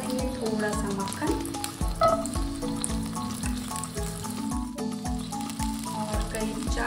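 Butter sizzles in a pan, a close bubbling hiss with rhythmic low pulses and a few light clinks, and a voice can be heard faintly in the background.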